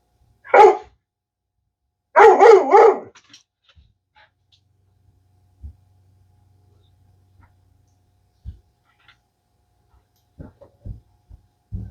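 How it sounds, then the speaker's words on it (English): A dog barks once, then lets out a quick burst of several sharp barks nearby, followed by near silence and a few faint thumps and taps. "My dog's gonna start barking."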